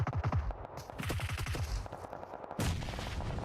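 Gunfire in an esports shooter video game match, heard as rapid bursts of sharp shots and automatic fire in quick clusters with brief gaps, loud and close.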